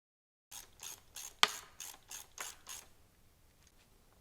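A ratchet clicks in about eight quick, evenly spaced bursts, close and fairly quiet, as a Barkbusters handguard is loosened on a Kawasaki KLX 230S motorcycle, then it falls silent.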